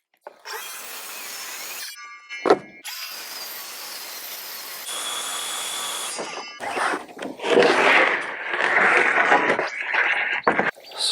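A power saw cuts plywood sheathing on a cabin wall being framed, with a whining motor running for several seconds, brief pauses and clunks, then a rougher, louder cutting stretch near the end.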